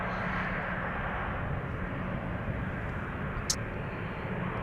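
A Boeing 747 taxiing at Amsterdam Schiphol Airport, heard as a steady, moderately distant jet engine rumble and whine, continuous throughout with no voices.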